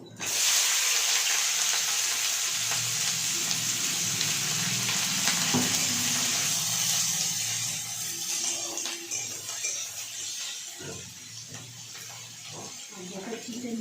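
Chicken and chopped onions sizzle and fry steadily in hot oil, a loud continuous hiss that eases a little toward the end, with occasional stirring clinks and a voice talking over it.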